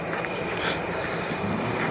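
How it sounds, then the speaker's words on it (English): A Mugen Civic Si engine braking at high RPM, heard from inside the car as a steady, dense broadband drone with a rough, continuous hum that holds at an even level throughout. "There's the engine braking right there, which is basically all the way to the top of the RPMs"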